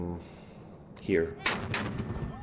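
Mortar fire in the wargame Panzer Battles North Africa, set around Bardia in 1941: a couple of sharp booming reports arriving close together amid game effects, moderately loud, with a voice present.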